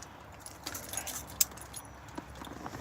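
Keys jangle in short, light metallic bursts up close, tossed and shaken near a passing car, with no talking.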